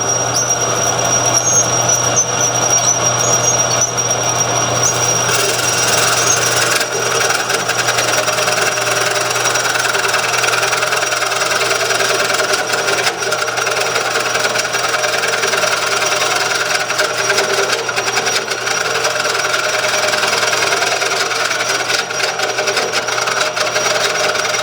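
A wood lathe fitted with an expanding ring chuck runs continuously, giving a loud, steady mechanical drone with a constant high whine and no pauses.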